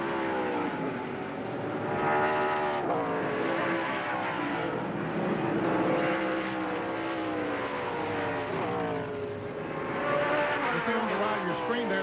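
NASCAR race cars in the 1995 Budweiser 200 at Sears Point road course roar through the left-hand turn 12 toward the start-finish line, several loud engines rising and falling in pitch as they pass, with commentary over them.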